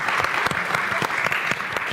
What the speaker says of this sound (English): We have a round of applause for them as well